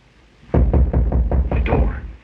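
A run of six firm knocks on a door, evenly spaced and close, each a dull heavy thump, with no talking.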